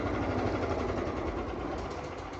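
A 13hp petrol engine on a wood chipper idles steadily with a constant low rumble and mechanical chatter, close by and fairly loud, with no talking.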